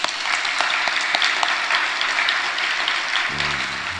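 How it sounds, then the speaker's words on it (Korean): A church congregation applauds to give thanks and glory to God, sustained dense clapping at steady volume, with a faint low tone entering near the end. "하나님께 감사와 영광의 박수를."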